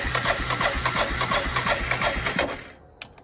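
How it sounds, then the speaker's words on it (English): Classic hot rod car engine, a Tri-Five, cranking with a rapid rhythmic starter churn for over two seconds, then catching briefly before trailing off into quiet with a short sputter. "Let's see if we can start this thing."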